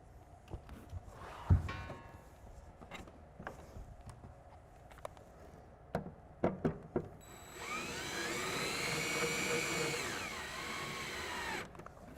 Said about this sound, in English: For speed, I'm using a drill to set these.